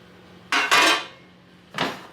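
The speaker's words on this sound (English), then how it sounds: "I'm just going to empty this so we can refill the tray again" Dried onion or tomato pieces tipped from a food dehydrator tray, giving two quick rattling clatters and then a third scrape a moment later, close and clear in a quiet kitchen.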